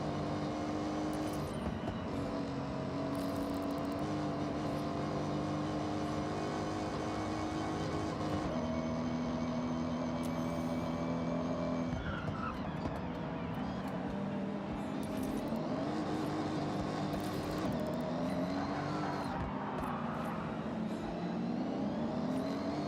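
Muscle car engines in the racing game Forza Horizon drone steadily throughout, with shifting revving pitch and passing-vehicle whir, fairly loud and continuous with no speech over them.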